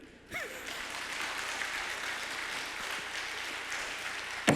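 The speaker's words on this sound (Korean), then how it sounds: "이쯤 되면 박수 한번 나와야 돼." Congregation at a Sunday afternoon church service gives a modest round of applause, a soft, steady patter of clapping heard at some distance for several seconds.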